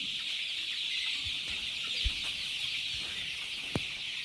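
Village free-range chickens and chicks cluck softly and intermittently over a steady high-pitched hiss of background noise, with a few brief louder peeps standing out.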